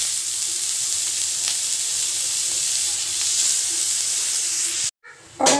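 Shredded cabbage and onion sauté in a little oil for momo filling, giving a loud, close, continuous sizzle and hiss that cuts out abruptly near the end before a brief burst returns; no voices.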